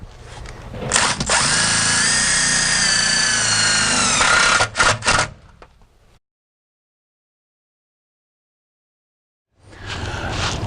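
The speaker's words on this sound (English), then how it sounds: "I'm going to take my insulated clamps and my self-tapping screws, and I'm going to screw this wire up along here" A power drill drives self-tapping screws to fasten a wire for a sign install. There is a loud, close whir of about five seconds that ends in short stuttering bursts, a silent gap, then a second whir starting.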